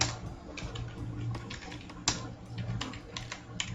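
Keys clack on a computer keyboard in a quick, irregular run of light taps close by, while a voice talks quietly alongside.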